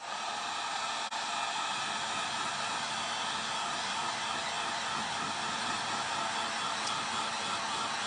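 A hair dryer blows in a steady, continuous whoosh, drying paint on a gnome figure crafted from a creamer bottle, close and unbroken for the whole stretch.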